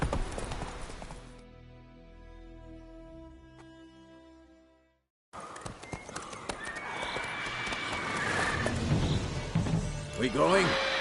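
Horse Roach from The Witcher 3 video game, heard as clip-clop hoofbeats and a whinny; a short silence splits the clip, then busier game sound follows with hooves and commotion under a voice.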